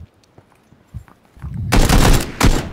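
SMG gunfire in a shooting video game begins with faint scattered pops and then breaks into a loud, dense burst of rapid automatic fire. A sharp final shot rings out near the end, with no voices over it.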